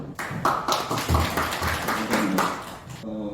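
Conference audience applauding a speaker at a Korean panel session on markets and regulation, a dense run of hand claps and taps filling the hall for a few seconds before fading.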